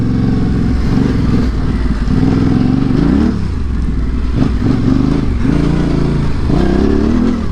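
Dual sport motorcycle ridden off-road on dirt, its loud engine droning steadily close by with revs rising and falling and some clatter, with no voices.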